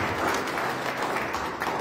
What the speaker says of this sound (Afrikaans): Kom ons gee hulle 'n lekker hande klap.